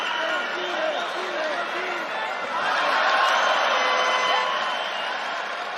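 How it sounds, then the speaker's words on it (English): A crowd at a boxing match cheers and roars steadily throughout, with rhythmic chanting early on and a swelling, dense wall of noise, fairly loud with no clear single voice. "the crowd are getting behind it"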